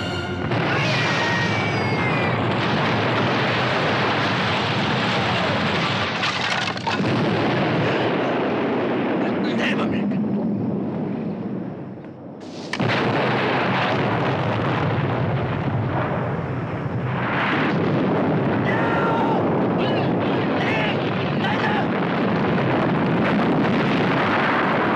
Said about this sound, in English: My God, it's a bomb!